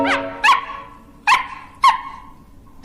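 A dog barks four times nearby, loud sharp barks spaced unevenly with short ringing tails between them.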